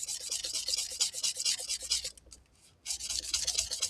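A guitar body is sanded by hand with very fine 3,000-grit sandpaper, a close, even rhythm of quick rubbing strokes with a brief pause partway through, alone without talk.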